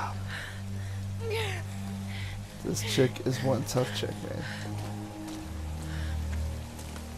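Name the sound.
rain falling in the video game Tomb Raider (2013)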